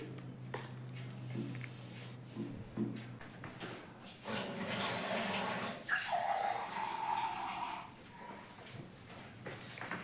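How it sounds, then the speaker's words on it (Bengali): A spoon stirs flour, milk and spices into a thick batter for potato chila in a bowl, with soft wet scraping and sloshing that grows louder midway and then settles. "চামচে করে প্রথমে এটাকে একবার মিশাচ্ছি"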